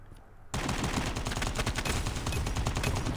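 Rapid bursts of AK rifle gunfire in the mobile shooter game Call of Duty Mobile, kicking in suddenly after a brief quiet moment and continuing as dense, loud automatic fire with no talking.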